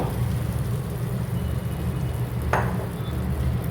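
A pan of spiced gravy sizzles steadily as salted, pre-cooked chickpeas are added for a chickpea biriyani, with a brief scrape of stirring partway through and no talking.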